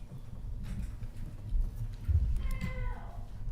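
A single cat meows in a city council meeting room, faint and somewhat distant: a short falling cry near the end, heard over a steady rumble of room noise and shuffling, with no speech.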